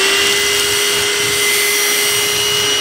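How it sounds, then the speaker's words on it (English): A VacLife VL189 cordless handheld vacuum cleaner running close up while picking up a mess from carpet: a loud, steady motor whine with a high tonal hum that holds without a break. "let's see how well this vacuum actually picks this up here"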